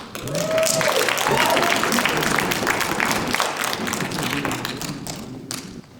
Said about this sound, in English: let's hold applause until the end of a question, just for clarity and speed of going through this